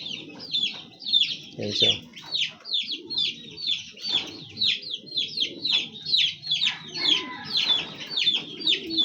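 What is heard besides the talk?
backyard chickens clucking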